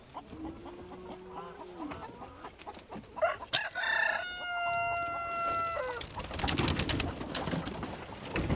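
A rooster crows loudly and close by while chickens are being caught and moved, with the long call rising and holding over other birds clucking and cooing around it.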